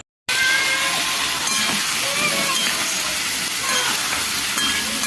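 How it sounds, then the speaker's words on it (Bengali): Meat with salt and turmeric fries in a pan, giving a loud, continuous hissing sizzle that starts abruptly and holds steady throughout. "তারপর নুন হলুদ দিয়ে মাংসটা একটু ভালো করে কষাই"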